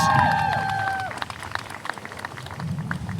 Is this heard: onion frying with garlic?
no